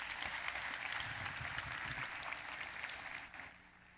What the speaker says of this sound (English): a huge round of applause to all of those startups and to all of the judges as well